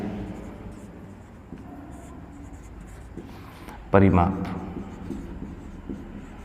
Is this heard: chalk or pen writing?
yes